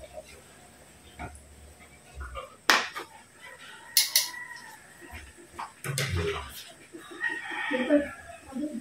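A rooster crows several times nearby in a rural outdoor setting, with scattered clucks and a person talking intermittently around the calls.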